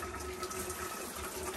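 Water pours steadily from a newly fitted multi-setting shower head, giving a continuous, even hiss of spray at close range with no breaks.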